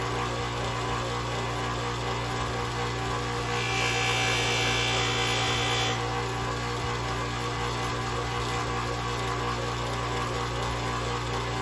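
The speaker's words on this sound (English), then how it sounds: "This is where the bench grinder really shines, is on areas like this, on these side parts that were really hard to get before." A bench grinder with a polishing wheel works on brass parts of a Gem Micromatic open-comb safety razor, giving a steady motor hum with a brighter abrasive rush for a couple of seconds midway.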